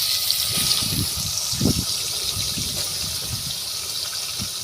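Soaked soya chunks being washed under running water, a steady loud gush with a few splashy bumps as they are handled, close by and with no talk.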